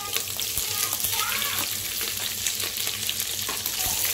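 Onion and green chilies frying in oil and ghee: a dense, even sizzle close by for the whole stretch, with light stirring scrapes through it and no speech.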